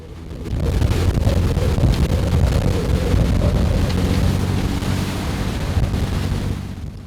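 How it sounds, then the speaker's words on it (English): Strong wind roars steadily across an open ferry deck at sea with surf and water rushing underneath, a loud, continuous blustery noise with no talking. "The wind whistling like this makes it sound like it's really cold"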